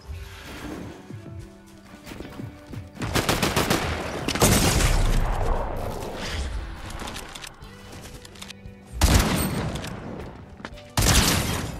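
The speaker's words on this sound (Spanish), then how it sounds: "Los tiros rápidos con esta escopeta son fáciles de dar" Shotgun blasts in a video game, fired in quick pairs of two shots at once, loud sharp bursts scattered across a chaotic fight with crashes and impacts, no talking.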